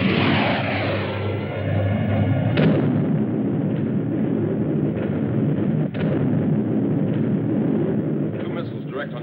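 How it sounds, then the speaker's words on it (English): Missile bombardment effect from a 1954 science-fiction film: a sustained, loud, rumbling barrage with sharp blasts near the third and sixth seconds, holding steady for the whole stretch. "Start the bombardment."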